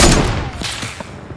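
Hand cannon gunfire in a Fortnite-style video game, a loud close blast at the start whose crack decays, then several quicker, fainter shots rattling off in the distance.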